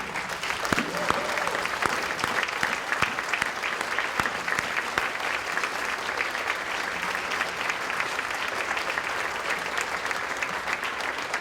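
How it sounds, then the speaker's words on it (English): Sustained round of audience applause at a recovery breakfast gathering as staff stand, dense rapid clapping from many hands lasting throughout at moderate loudness, with no voices standing out. "Would our staff that are here this morning please stand up and take a nice round of applause."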